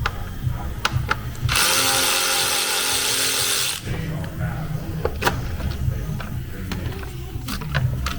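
A tool works on the top timing cover of a Ford Fiesta 1.5 TDCi: a loud buzzing burst of a couple of seconds, then scattered clicks and clatter of parts being handled nearby.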